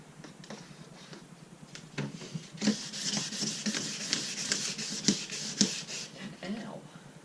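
Sandpaper rubbing by hand over a Ram SRT-10 headlight lens, a close, uneven scraping rasp that grows louder and more continuous after the first couple of seconds, with brief sharper strokes standing out.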